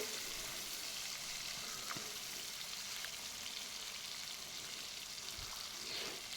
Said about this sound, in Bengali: প্রথমে ইলিশ মাছটা ভালোভাবে ভেজে নিব